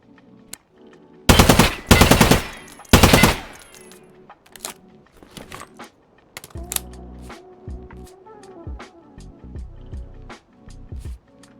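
An FN SCAR 17 Mod 0 rifle fires three loud, sharp shots close by in quick succession, followed by quieter metallic clicks and handling noises.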